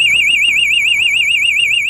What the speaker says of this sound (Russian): В случае снижения этого давления стрелка зайдет за двухконтактный манометр и сработает сигнализация.